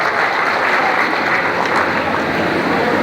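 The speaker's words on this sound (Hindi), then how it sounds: "तो आप लोग सब ताली बजा दीजिए एक बार उनके लिए" Dense, steady audience applause at a Kabir Jayanti function in Churu, loud and continuous throughout with a faint voice underneath.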